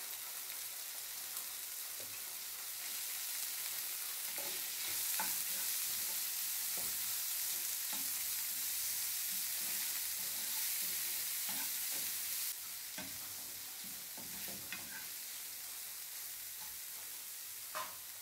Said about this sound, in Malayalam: ഇനി ഇതെല്ലാം കൂടി നല്ലതുപോലെ ഒന്ന് വാടി വരുന്നത് വരെ ഒന്ന് വഴറ്റി കൊടുക്കാം.